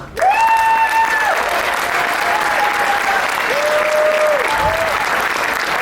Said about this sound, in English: So help me give them a big round of applause.